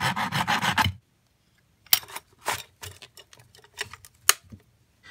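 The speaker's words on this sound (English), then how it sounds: "Then I need to deburr this right here." Burrs are scraped off a cut metal edge during a Makita 9.6v battery pack lithium-ion conversion: a steady rasping burst, then a pause, then several short scraping strokes at close range.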